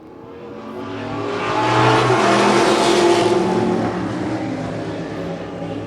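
Modified race cars roar off a green flag start, engines rising into a loud swelling rush as the pack passes, then easing slightly as they run tire to tire down the back straight.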